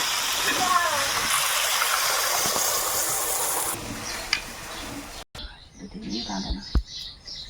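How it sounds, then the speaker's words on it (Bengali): Water pours into a pan of frying crab curry, making a loud, broad rushing hiss for several seconds before it drops to a quieter bubbling sizzle broken by a few utensil clinks. "ভালো করে কষিয়ে নিয়েছি এবারে এর মধ্যে জল দেবো"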